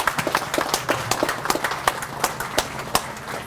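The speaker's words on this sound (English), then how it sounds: "So please give them a round of applause." Applause from the audience at a Fiji Airways cocktail event in Vancouver, a scattered crowd of hands clapping in a brisk, uneven rhythm, fairly close and steady for a few seconds.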